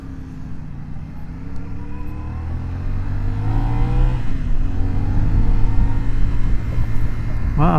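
A CFMOTO 450SS 400cc sport bike accelerates on the road, its engine note rising in pitch through the gears and growing louder, with a brief rev at the end and wind rush underneath.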